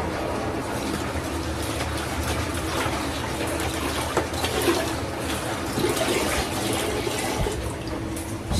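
Bangus (milkfish) is rinsed for tinapa in a mix of fresh and salt water, a continuous splashing and sloshing close by with irregular louder swishes.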